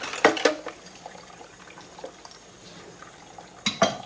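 Greasy dishes are set down into water in a kitchen sink, giving a few sharp clinks and splashes at the start and again near the end, with soft water sounds and faint clatter between.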